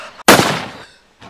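A toy gun fires one sharp, loud close crack that fades over about half a second, followed by a softer brief burst.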